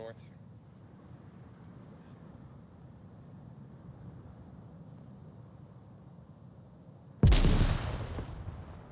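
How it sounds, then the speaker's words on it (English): A grenade detonates in the VR shooter Onward during a competitive match. A sudden loud blast breaks after several seconds of low, steady background rumble, then rings out and decays. "that's a great nade that almost catches DualShock on the corner"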